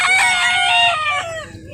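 A rooster crows loudly and close at a rooster farm in Cebu, one long cock-a-doodle-doo with softer clucking underneath, fading out at the end.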